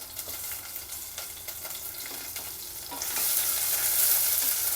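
Chopped onions fry in a pan for an Indian-style chicken curry, a close hiss that swells into a louder, fuller sizzle partway through, with faint stirring scrapes and no talk.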